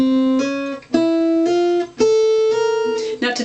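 Guitar hammer-on exercise played across the remaining strings, a clear run of ringing slurred notes in short groups with brief gaps between them, close and alone with no talking.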